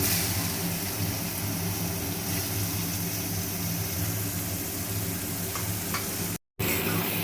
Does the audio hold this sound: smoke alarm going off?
no